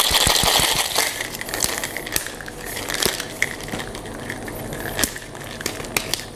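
Rapid, continuous rattling of ice knocking inside a metal cocktail shaker, loud and close, lasting the whole stretch without pause.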